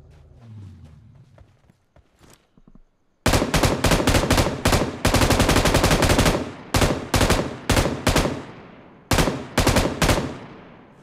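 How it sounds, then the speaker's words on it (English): Rapid automatic gunfire in PUBG on Erangel or Miramar, loud close bursts of repeated shots in several volleys with short gaps, after a quieter stretch of faint footsteps and distant single shots. "You can hear somebody already shooting out there"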